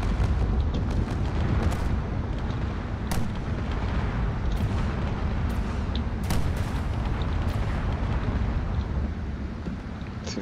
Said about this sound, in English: Seems to be some shells coming in this direction as well.